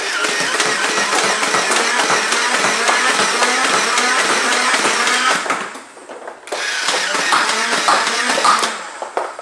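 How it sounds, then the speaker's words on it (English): A Nerf N-Strike Elite Rhino Fire blaster whirs loudly as its motors rev, with rapid rattling firing running steadily, a brief dip near the end, then another burst of revving and shots. "if you push down the paddle halfway, it'll rev up, and then you push it all the way to fully fire"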